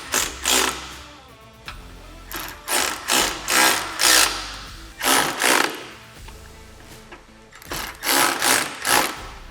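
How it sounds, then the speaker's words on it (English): A power tool drives screws into a half windshield on a Can-Am Maverick R side-by-side, giving several short buzzing bursts in quick clusters with brief pauses between them, close by and alone. "Tighten these two screws here."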